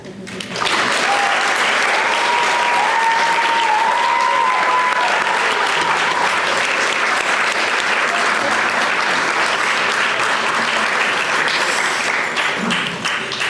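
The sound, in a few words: wedding guests' round of applause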